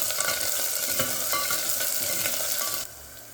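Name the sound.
garlic and green chillies frying in a pan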